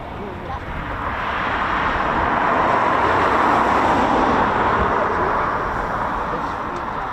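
Three RAF Eurofighter Typhoon FGR4 jets flying past a training and QRA station, a broad roar swelling and fading over several seconds, with a voice talking over it.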